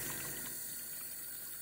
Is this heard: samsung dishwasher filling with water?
yes